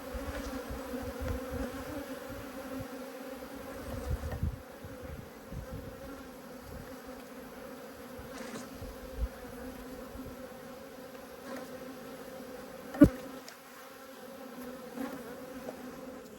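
Honeybees hum in a continuous low drone close by during a hive inspection in an apiary, individual bees buzzing past in small swells and a single sharp tap cutting through.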